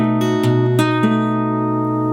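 A fingerstyle electric guitar plays a rockabilly measure over a B dominant 7 chord, a few plucked notes ringing together into a sustained chord, close and clear with no talking.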